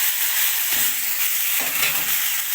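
Uncooked rice is tipped onto vermicelli frying in oil in a pot and stirred, giving a loud, steady sizzle with a couple of scraping stirs and no voices.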